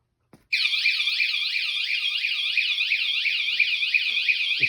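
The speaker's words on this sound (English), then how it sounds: "If anybody taps or jiggles the bike, it gives them a warning." A WSDCAM anti-theft vibration alarm for a bike or motorcycle wails in a loud, continuous, rapidly warbling electronic siren, starting abruptly after a brief tap and sounding alone in a garage.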